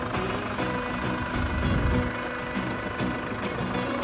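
A Chevrolet Orlando diesel turbo engine runs at a steady idle, giving a continuous low rumble and faint knocking that swell slightly midway before settling back.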